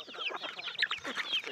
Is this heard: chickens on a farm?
yes